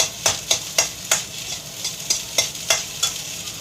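Food sizzles while it fries in a pan, and a utensil strikes the pan in sharp, regular strokes about every third of a second, close and clear with no talking.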